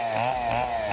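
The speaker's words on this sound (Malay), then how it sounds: "Getaran tangan lengan berlaku semasa pekerja memegang peralatan tangan berkuasa yang bergetar seperti gergaji rantai dan gerudi elektrik." A chainsaw runs at a steady high-revving buzz with a slight rhythmic wobble in its pitch, loud and close, continuous with no voices.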